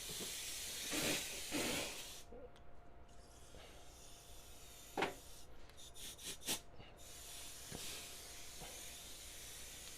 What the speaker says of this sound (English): I'm probably throwing out the compressed air the wrong way